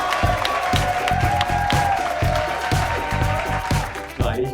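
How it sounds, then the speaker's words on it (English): An audience at a company's fifth-year celebration gives sustained applause, with steady crowd clapping and some cheering over a background of music and voices. "So big round of applause for the team."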